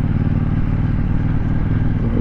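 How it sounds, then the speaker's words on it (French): A KTM Duke 790 motorcycle exhaust crackling and popping on the overrun, a loud, close, continuous rumbling engine sound with irregular pops throughout. "le pot il arrête pas de péter derrière"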